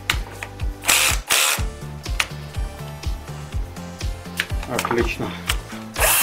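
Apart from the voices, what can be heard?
cordless drill with upgraded battery running, clutch ratchet clicking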